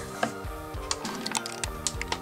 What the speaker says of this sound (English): You got that nice ratcheting sound.